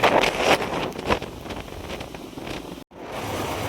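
Gusty wind buffets the microphone with a rumbling, uneven roar that swells and eases, broken by a brief dropout near the end.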